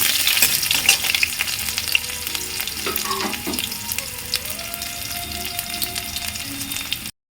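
Onions frying and being stirred in a pan, a loud, dense close-up sizzle with scraping stirs throughout, cutting off abruptly at the end.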